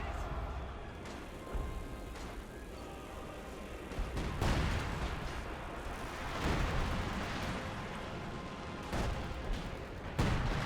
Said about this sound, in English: Oh, they actually have artillery coming in.